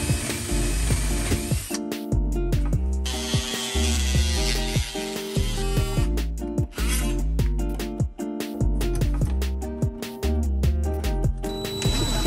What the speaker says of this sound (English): I'm gonna drill those two holes and we'll get these things mounted.